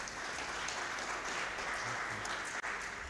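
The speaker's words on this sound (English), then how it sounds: "a round of applause to the panelists" An audience at a civil society convention applauds the panelists, steady continuous clapping at a moderate, slightly distant level throughout.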